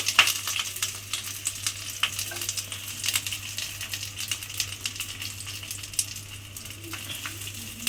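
Banana flower paturi parcels frying gently in oil in a wok, giving a soft, steady sizzle with scattered light crackles and small clinks, close by with no talking.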